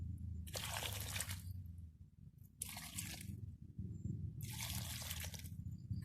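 Water is poured into soil in a tire planter set up for green onions, coming in three separate hissing, splashing bursts, each followed by quieter trickling and soaking in between.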